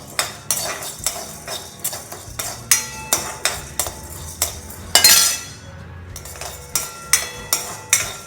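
Whole spices including ajwain are dry roasted in a pan for betel leaf kuzhambu, the spoon striking and scraping the metal in a steady, close, bright clinking rhythm with a brief louder rattle midway.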